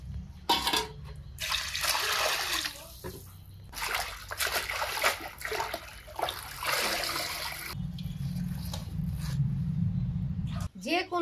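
Fish are washed by hand under a water tap, with splashing, trickling and running water throughout, close by, while someone talks over it.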